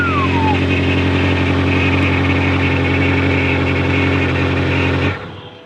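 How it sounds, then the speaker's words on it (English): A 2018 BMW M6 with a side dump exhaust idles loudly and close by with a steady deep throb, then cuts off abruptly near the end. "Still my favorite thing about the car, side dump exhaust."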